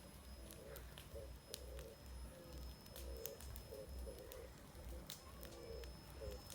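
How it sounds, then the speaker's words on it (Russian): Pigeons or doves coo at night beside a crackling campfire in a garden in early July, soft repeated calls in short rhythmic phrases with sharp pops from the fire between them, all fairly faint. "Вон даже птички что-то говорят."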